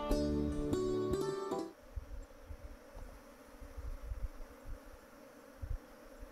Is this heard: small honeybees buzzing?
yes